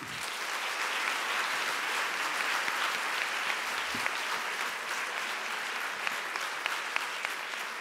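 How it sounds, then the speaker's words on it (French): Sustained applause from a large crowd at an animation awards ceremony, a dense steady wash of clapping that holds at an even level from start to finish. "On peut les applaudir, s'il vous plaît."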